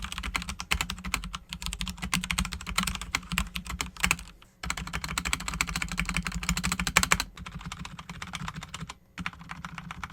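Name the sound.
typing on a budget mechanical keyboard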